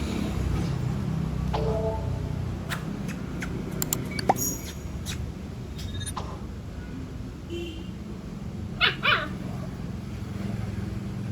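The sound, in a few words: dog barking at a pet shop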